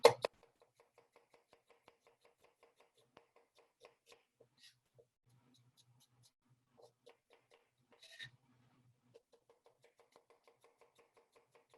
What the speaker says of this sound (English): So I'm gonna slice up these onions real quick.